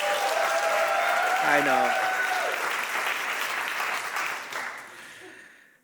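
Audience applause at a theater awards ceremony, a steady wash of clapping with some cheering that slowly fades out, with a voice speaking briefly over it.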